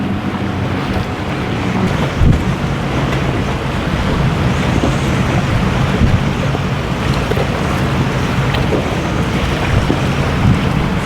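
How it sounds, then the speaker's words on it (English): Strong wind buffets the microphone in a steady, loud roar at an outdoor marathon powerboat race, with water and boat noise mixed underneath and no talk. "I can't believe how windy it is"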